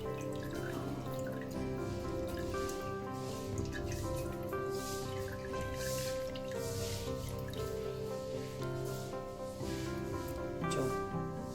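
Water drips and trickles steadily from a twisted cloth bundle draining freshly made homemade paneer, a soft, quiet patter running for about ten seconds beneath continuous background music.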